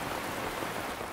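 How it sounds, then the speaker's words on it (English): Steady rain pours down in a constant hiss in Metal Gear Solid: Peace Walker, even and unbroken, with no voices over it. "And they're out in the rain now."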